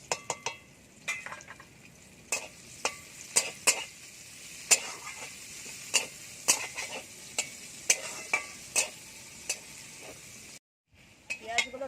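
Chopped onions sizzle in plenty of oil in a wok for fish dopiaza, a steady frying hiss broken by regular metallic scrapes and clinks of a spatula stirring, close and fairly quiet.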